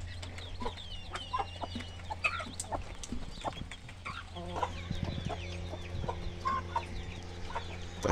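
Several free-range chickens with chicks cluck and chatter nearby almost continuously, with an occasional rooster-like call over a low background hum, on a rainy day.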